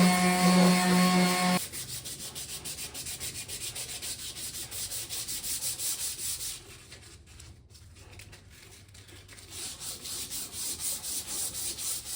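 Sandpaper rubs in quick back-and-forth strokes to smooth the ridges of a wooden axe handle on a vintage beveled Tasmanian axe, a soft, rhythmic scratching that runs steadily and fades slightly midway, after a brief louder noise at the start.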